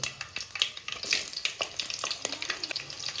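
Tempering seeds and cut green chillies fry in a little oil in a bowl, giving a soft crackling sizzle with small pops and scraping stir sounds over a few seconds.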